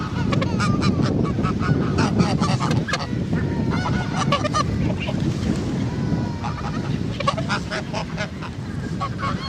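A flock of geese and ducks honks loudly and close by, with repeated overlapping calls that come in bursts, over a low rush of wind and water.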